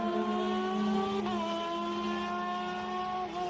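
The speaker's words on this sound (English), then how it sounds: "Some great sounds from these cars." Race cars at Road America scream past with high, sustained engine notes that shift pitch as they accelerate and change gear, loud and close with no talk.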